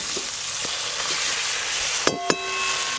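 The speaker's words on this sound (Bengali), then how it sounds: "একটু সময় নিয়ে এই মশলাটা খুব ভালো করে কষে নেব" A thick spice paste fries and is stirred in a pan with a steady close sizzle, soft utensil scrapes across it and two sharp metallic clinks near the end.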